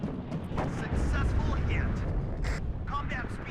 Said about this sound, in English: Nice big explosion there.